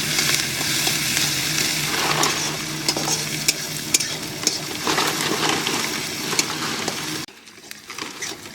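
Chopped onion fries in hot oil with cumin and dried chili, making a loud, continuous close sizzle broken by scattered pops and the scrape of stirring, before it cuts suddenly to a quieter hiss.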